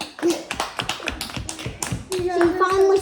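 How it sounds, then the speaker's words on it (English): Brisk hand clapping for a woman after her first day of IVF shots, a quick run of sharp close claps while voices talk and a voice joins over them. "Give her a round of applause."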